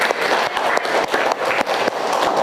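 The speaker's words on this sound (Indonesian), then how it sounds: "Kita beri aplaus dulu untuk kita semua." A classroom group of students gives a short burst of applause, steady, close clapping lasting a couple of seconds.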